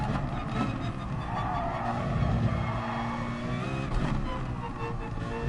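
A Citroen race car in Gran Turismo Sport drives hard, engine note rising and falling with tire noise and skidding, steady and moderately loud under a faint voice.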